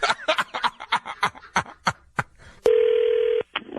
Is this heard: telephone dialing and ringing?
yes